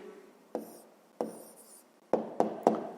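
Pen writing down an answer to a fifth-grade math exercise, a few short scratchy strokes and taps, close and quiet, spaced irregularly.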